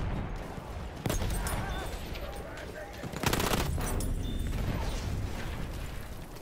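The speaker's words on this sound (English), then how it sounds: "Look out! Machine gun!" Machine gun fire in a video game crackles in rapid bursts, one sharp volley near the start and a longer, louder rattling burst midway, over a busy battlefield din with voices talking.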